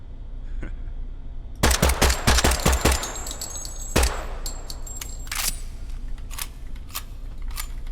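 Suppressed gunfire from a weapon in a video game: a rapid burst of sharp muffled shots, then a single shot and faint mechanical clicks, with no talk.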